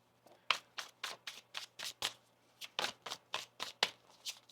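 Tarot cards are riffled and shuffled in quick, crisp bursts, about a dozen short flutters in an uneven rhythm, close and fairly quiet.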